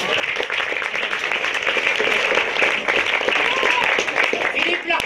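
An audience applauds the winner at a culture awards event, with sustained dense clapping and a presenter's voice speaking over it.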